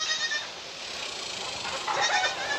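A newborn baby goat bleating outdoors, a steady wavering cry under broad background noise, fairly close, with no talk over it.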